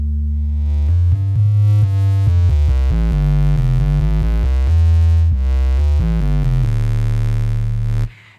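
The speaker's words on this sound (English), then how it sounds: "I'm introducing the wave folder to add harmonics so that this sub bass can cut through a mix" Yamaha Montage synthesizer playing a deep sub bass line with a parallel wave folder adding bright harmonics, a loud rhythmic sequence of notes on its own.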